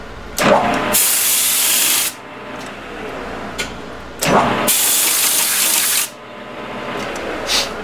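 A lathe runs during a gearbox rebuild, its coolant spraying in two loud, hissing bursts of a second or more each between quieter stretches of machine hum.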